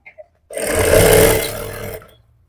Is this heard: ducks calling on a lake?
no